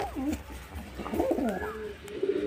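Several loft pigeons coo in repeated low, warbling phrases, close and moderately loud, with brief quiet gaps between calls.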